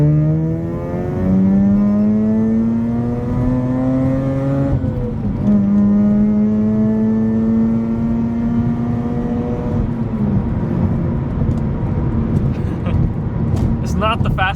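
Mazda RX8 rotary engine droning steadily from the cabin on an icy winter highway, pitch climbing through gears with shifts around five and ten seconds, loud and continuous with a low road rumble.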